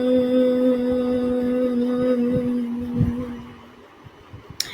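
A person exhales slowly while humming a steady, buzzing bee-like drone during a breathing exercise for kids. The tone holds for several seconds, then fades into quiet breathy noise. It is a voice imitating a bee.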